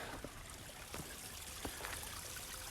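Creek water flows in a steady, soft broadband wash, fairly faint and continuous, with a few brief splashy ticks and no voices.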